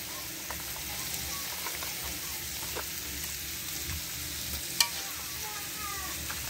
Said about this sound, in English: So it's getting everything mashed and mixed.